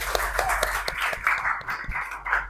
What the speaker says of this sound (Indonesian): gue tepuk tangan dulu